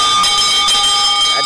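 A bell rung to end a morning devotion rings out with bright, sustained metallic tones and a couple of rapid repeated strikes, loud and close over a short span.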